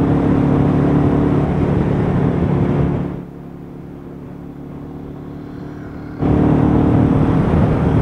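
A Royal Enfield Meteor 350 motorcycle ridden up a road, its steady engine drone and wind roar loud and close, dropping away briefly in the middle before returning at full strength.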